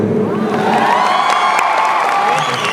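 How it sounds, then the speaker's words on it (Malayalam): Large crowd at Lulu Mall in Kochi applauding and cheering continuously, a dense wash of clapping with whoops and shouts throughout. "ഒരു പ്രാവശ്യം കൂടെ ആ കൈയടി തരുമോ"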